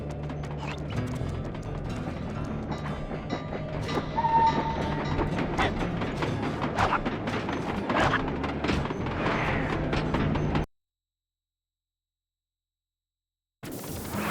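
A train in the video game Sly 2: Band of Thieves rolls past with rhythmic clanking wheels and mechanical rattling, loud and continuous, then cuts to silence before resuming briefly.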